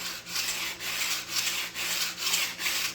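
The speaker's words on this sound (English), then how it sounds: "going back and forth, you know, sanding it" Rhythmic hand sanding on a wooden model dory, about six even back-and-forth strokes of gritty rubbing, close and steady with no speech.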